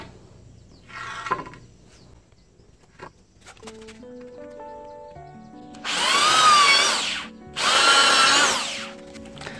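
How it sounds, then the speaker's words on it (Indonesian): A power drill whirs loudly in two bursts, about two seconds each, after some quieter handling noises and a few tonal beeps. "tinggal kita bor saja bagian sini"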